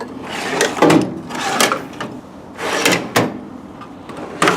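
Metal tool box drawers slide open and shut several times, each a short rolling rattle and clunk, loud and close in a home garage with no voices.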